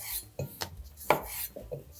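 A knife slicing cherry tomatoes in half on a board, a handful of soft separate cuts and taps at an uneven pace, close and fairly quiet, with no talk.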